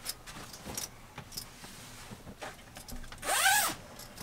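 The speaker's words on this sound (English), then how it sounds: "we have these Betty's bed sets, and they just zip." Zippers on fitted bed sets in an RV are pulled closed, giving soft rustling handling noises, then one loud close zip rising in pitch near the end.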